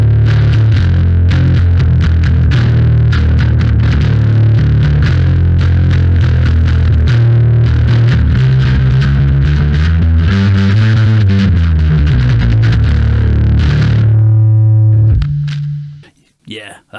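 Bass guitar played through a vintage Darkglass Ultra distortion, modelled by Neural DSP: loud, gritty sustained notes and sliding riffs run continuously for about fifteen seconds, then cut off abruptly into near silence.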